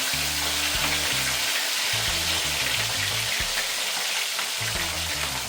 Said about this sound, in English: And we're gonna fry the fish, guys, until it's super crispy.